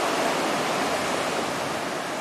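Ocean waves at Praia de Bombas beach after a cyclone swell, heard as a steady broad wash of surf noise, constant and fairly loud with no voices.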